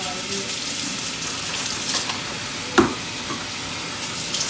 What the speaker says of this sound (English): Rinse the top of your cans off.